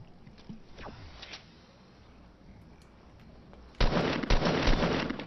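A sniper rifle headshot in the Fortnite battle royale game: a single sharp, loud crack, followed by a burst of gunfire and impacts. Quieter ambient game sound plays before it.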